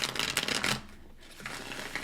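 A beautiful but stiff tarot card deck being shuffled, riffling bursts close and loud for most of a second, a brief pause, then another run of shuffling.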